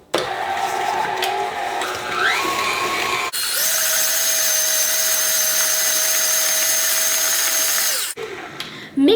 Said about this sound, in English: now we're going to mix this together in our stand mixer until it is nice and creamy